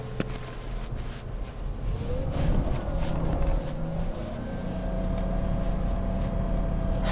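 A BMW E30 is driven around a freshly unpaved parking lot, its engine droning and rising in pitch as it accelerates, heard from inside the car with road rumble and wind noise, steady and fairly loud, no talking.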